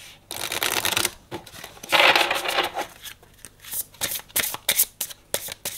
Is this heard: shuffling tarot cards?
yes